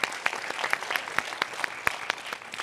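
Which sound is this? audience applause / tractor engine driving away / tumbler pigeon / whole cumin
audience applause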